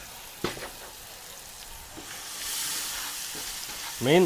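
Hot oil sizzles and crackles steadily close up as a garlic tempering fries, with a few clinks of stirring and a louder burst of frying near the end.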